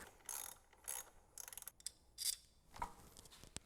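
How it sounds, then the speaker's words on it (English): Ratchet wrench undoing 10mm coil bolts on an Acura NSX engine, several short bursts of rapid metallic clicking separated by pauses, close and fairly quiet, with a light tap of metal near the end. "And then I'm going to undo the screws and set them aside."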